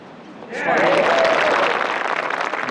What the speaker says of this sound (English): Give her due applause.